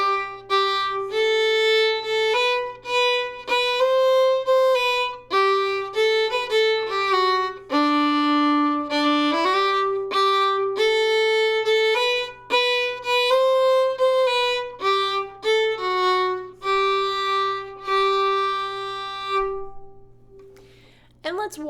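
Old-time fiddle plays the full B part of the tune Going Down to Cairo, a steady run of bowed notes over a sustained open-string drone, played solo and close with no talking.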